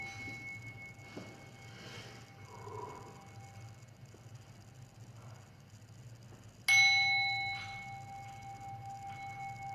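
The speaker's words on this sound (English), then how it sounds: "You've got a singing bowl, haven't you? Do you want to give that a couple of chimes out or swirl around" A singing bowl is struck once inside Antwerp Mansion, giving a sudden bright metallic chime that rings on and slowly fades over several seconds, with quiet room noise and faint earlier tones before it.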